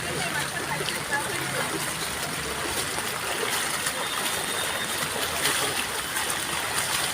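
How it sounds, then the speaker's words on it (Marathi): Floodwater flows through a waterlogged street in the Sagarli area of Dombivli near the Balaji temple junction, where water has entered buildings and cars sit submerged; a steady, continuous rushing wash holds at an even level throughout. "इथे सर्व इमारतींमध्ये पाणी शिरलं आहे."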